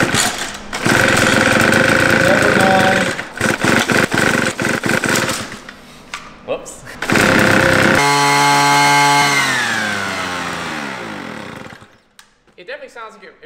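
A leaf blower engine with a hole drilled into the side of its exhaust port runs loud and harsh at high revs, buzzing and rasping for several seconds before winding down in a falling whine, with people talking over it.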